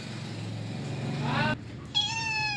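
A cat meows twice, a drawn-out rising cry followed by a shorter one, close by over a low background hum.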